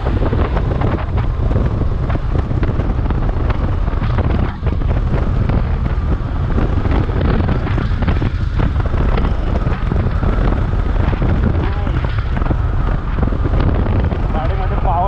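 Riding a Hero Xpulse 200 adventure motorcycle produces loud, constant wind buffeting across the microphone, mixed with the engine's low drone, dense and unbroken from start to finish.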